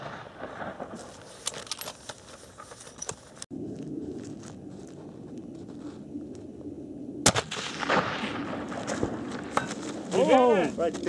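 Gunshots from target shooting ring out at a range, a few sharp reports spaced apart amid handling noise, with people talking nearby between shots.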